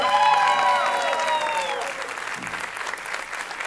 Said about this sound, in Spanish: Por favor, un aplauso para Saúl y para Florencia, fuerte.